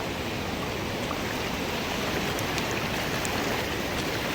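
Ganges floodwater rushes over a submerged ghat platform in Rishikesh, a loud, dense, unbroken roar of flowing water with no talk.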